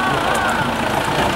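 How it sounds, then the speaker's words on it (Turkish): Tractor engine idling at a kopkari (buzkashi) horseback event in Urgut, a steady, fairly loud mid-low rumble with crowd noise and talk over it throughout. "Traktör, traktör."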